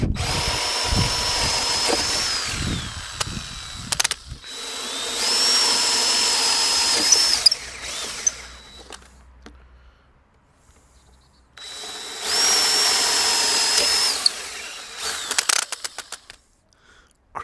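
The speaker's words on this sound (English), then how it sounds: "Let's drill." A power drill bores holes through a workpiece on a table, running loud in two long whining bursts with a quiet gap between them and handling clatter around them.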